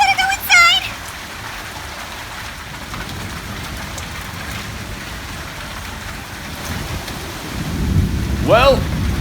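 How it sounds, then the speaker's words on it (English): Steady rain pours down during a thunderstorm at Disney World, with a low rumble of thunder swelling near the end, and a voice calls out briefly at the start and again near the close. "Rain, rain, go away!"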